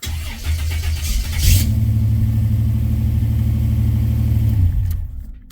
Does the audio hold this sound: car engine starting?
yes